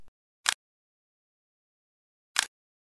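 A camera shutter fires twice for a two-second exposure: a crisp mechanical click opens it, near silence follows, then a second sharp click closes it, both close and clear with nothing else heard.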